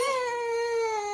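A cat gives one drawn-out, close meow that slowly falls in pitch, heard on its own with no talk over it.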